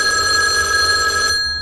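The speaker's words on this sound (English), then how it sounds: "But just then, her phone rang." A telephone rings loudly and close with a steady electronic bell tone, holding for over a second before cutting off suddenly.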